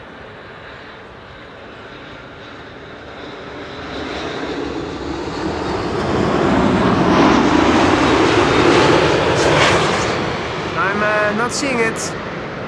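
A Boeing 787-9 Dreamliner lands at Amsterdam Schiphol on runway 06, its broad engine roar swelling from a distant rumble to a loud peak and then easing, with a person talking over it.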